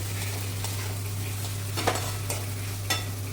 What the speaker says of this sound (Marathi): तेलात भाजली कोथिंबीर खूप छान लागते ना म्हणून थोडीशी भाजून घेते कोथिंबीर